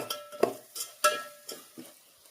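A spoon repeatedly scrapes and clinks in a pan as coriander powder, biryani masala and garam masala are stirred for potato biryani, about five distinct close strokes over a faint sizzle, without speech.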